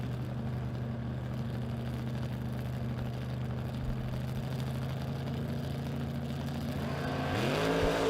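Drag race cars, one a Camaro, at a spring drag strip event: a steady engine drone holds throughout, then rises sharply in the final second as a car launches, growing louder and nearer.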